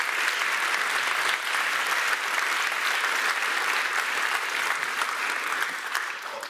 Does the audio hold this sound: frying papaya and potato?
no